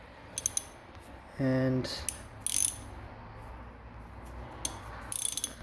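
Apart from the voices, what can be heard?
gear puller removing transmission gear set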